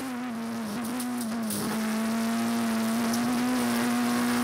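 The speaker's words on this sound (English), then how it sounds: "Wonderful to hear the car working underneath him." Petter Solberg's rally car engine drones steadily close by on a 2011 Rallye Monte Carlo stage, holding a strong even pitch with brief dips and surges as it works through a corner, no talk.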